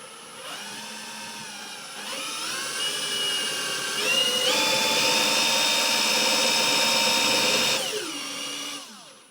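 Car alternator spun on a test bench, a whirring motor-like whine that rises in pitch and loudness in steps, holds steady and high, then winds down near the end, close and continuous.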